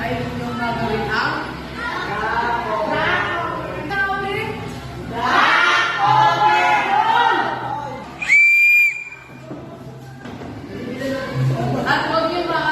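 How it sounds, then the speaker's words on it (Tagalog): A sharp whistle blast signals an earthquake drill at a school, briefly cutting through a noisy crowd of children shouting and chattering with talk throughout. "narinig ko yung senyas ng pito"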